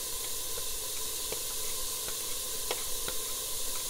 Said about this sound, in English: Now you want to go ahead and put in that garlic.